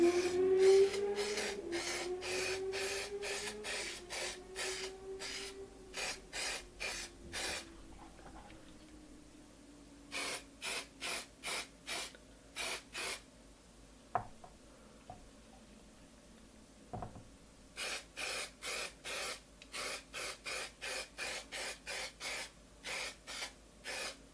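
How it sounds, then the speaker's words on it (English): K&N recharge oil sprays onto a motorcycle air filter from a Honda CBR 600 F4i in rapid bursts of short hissing pumps, grouped in several runs with pauses between, faint and close, no voices. "Just needs to be sprayed over it approximately from 10-15 centimeter distance, and just give it an even coat."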